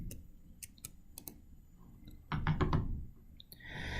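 Sharp, close computer mouse clicks in mapping software come singly and in small clusters against a quiet background, with a denser patch of clicks in the middle and no one speaking.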